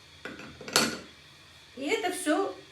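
Dough of flour, vegetable oil and salt for pelmeni and vareniki being mixed in a bowl, heard as a sharp clatter of a utensil against the dish followed by a softer run of scraping and clinking.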